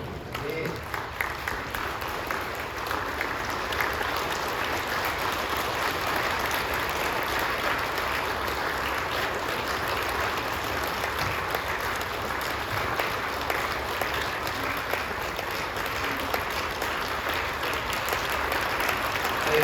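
Congregation clapping during a Christmas Advent church service, a dense, steady round of applause that continues evenly for about twenty seconds, with a voice faintly underneath.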